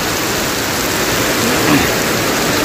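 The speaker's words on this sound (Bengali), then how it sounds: "দেখেন কি পরিমাণ বৃষ্টি হচ্ছে" Heavy rain pours down in Kuala Lumpur, a dense, steady rushing hiss that fills the whole moment without any voices.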